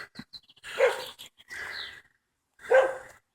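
A dog barks outdoors on a spring nature walk, giving a few close, sharp barks in separate bursts with short quiet gaps between them.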